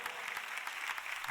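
A congregation at an Elevation Church service gives brief, faint applause, a quick wash of scattered clapping that continues without a break.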